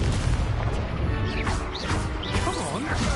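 A fire spell cast in the Hogwarts Legacy video game, a loud burst of whooshing flame with crashing, booming impacts and whistling magical effects filling the whole stretch.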